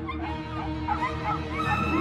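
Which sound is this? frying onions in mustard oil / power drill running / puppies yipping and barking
puppies yipping and barking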